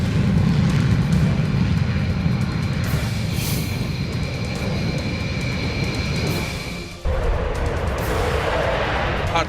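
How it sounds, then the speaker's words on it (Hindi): An Indian Air Force Rafale fighter jet flies overhead with a loud, sustained, close engine roar. The tone shifts abruptly about two-thirds of the way through and then continues steadily. "इंडियन एयरफोर्स का भरोसेमंद फाइटर जेट राफेल रण क्षेत्र में दुश्मन के छक्के छुड़ाने को है"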